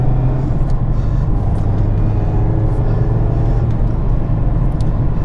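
Mazda MX-5 RF with an updated 2-litre petrol engine on a drive: a loud, steady engine drone and road rumble from inside the car.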